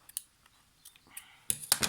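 Scissors snipping the thread tail on the back of embroidery stitching, a few light clicks followed by two sharper, louder close-up cuts.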